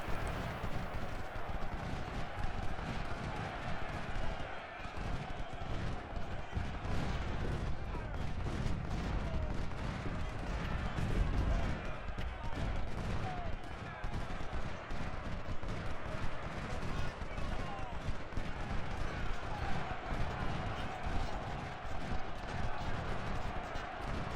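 Dense rolling battle din from the Ultimate General: Civil War game at Shiloh, with continuous rifle volleys and booming artillery crackling together in a loud, unbroken wash, a voice talking at times over it.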